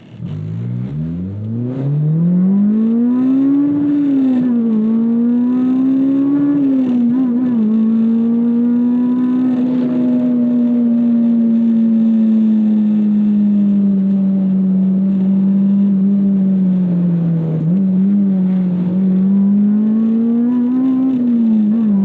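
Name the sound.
K-swapped Mini Cooper JCW with K20Z3 engine accelerating hard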